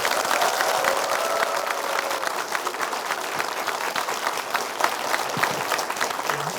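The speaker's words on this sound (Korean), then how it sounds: "감사의 뜻을 담아서 큰 박수 부탁드리겠습니다" Students at a university special lecture at Gumi College applaud the speaker, a provincial vice-governor: steady, dense clapping from a large crowd that keeps up evenly for several seconds.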